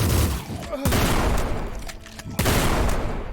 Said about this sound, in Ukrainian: а в мене плазмова бабахкалка